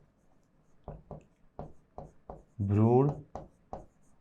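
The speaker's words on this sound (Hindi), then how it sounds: "चलो दोनों लिख देता हूं।" Writing on a board during a Hindi-language botany lecture on sexual reproduction in flowering plants, heard as short repeated scratchy strokes in an uneven rhythm, interleaved with and partly under the teacher's speech.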